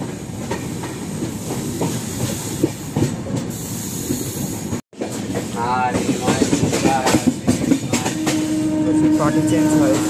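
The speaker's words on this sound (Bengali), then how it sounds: "পার্টি চেঞ্জ হয় সব মানে জংশনে, আর ঘ্যাট ঘ্যাট ঘ্যাট ঘ্যাট বিশাল আওয়াজ হয়।" A full AC special train runs along the rails, its wheels clattering in a loud, steady rhythm with occasional squeals and a brief dropout midway, while voices talk over it.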